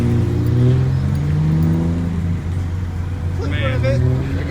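A Chevrolet Camaro ZL1 rolls past at a car show, its low engine drone rising and then fading, while people talk nearby over the rumble.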